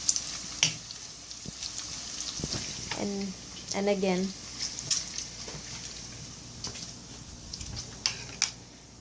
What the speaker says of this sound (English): I cook the bacon first for like, until it brown.